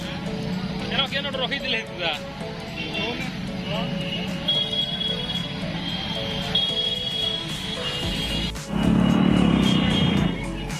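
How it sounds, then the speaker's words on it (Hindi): Congested road traffic with engines idling and horns honking repeatedly, voices talking over the steady din of a jammed road. "आधा रास्ता में और ट्रैफिक जाम, पूरा ट्रैफिक जाम, ट्रैफिक जाम"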